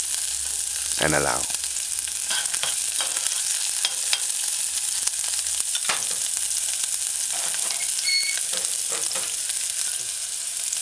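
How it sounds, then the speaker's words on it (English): Diced onions and ginger stir frying over medium-low heat in a pan, a steady soft sizzle with occasional scrapes of stirring, and a voice briefly speaking over it. "Add your diced onions and stir fry."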